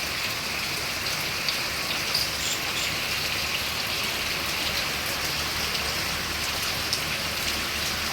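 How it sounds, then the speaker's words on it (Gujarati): Heavy monsoon downpour that has run for days over a waterlogged road: a constant, loud wash of rain beating on surfaces, steady throughout with no talk. "વરસાદ જ એટલો બધો 2 દિવસથી પડી રહ્યો છે"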